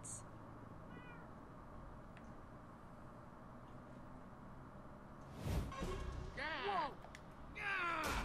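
Cats meow in the Minecraft Story Mode video game, with several rising and falling meows near the end over a steady low background hum.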